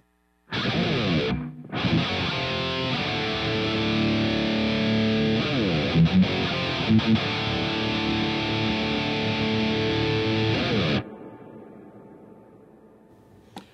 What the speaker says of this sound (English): let's go ahead and turn the reverb on and see what that sounds like